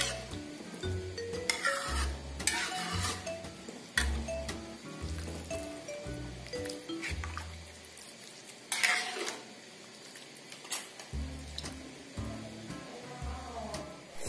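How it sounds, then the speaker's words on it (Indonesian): A spoon stirs and scrapes through a simmering pot of coconut milk curry with fern greens, in repeated bursts of stirring with clinks against the pot over a soft bubbling sizzle. "Lalu kita aduk-aduk lagi sampai mendidih lagi, dan jangan lupa terus aduk agar santannya tidak pecah."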